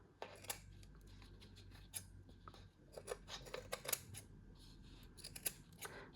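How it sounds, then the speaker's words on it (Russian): Large scissors trim material in a quiet room, a series of sharp snipping clicks in uneven bursts, some spaced apart and some in quick clusters, close and fairly soft. "Я сначала большими ножницами, а затем беру маленькие и вот так все выравниваю."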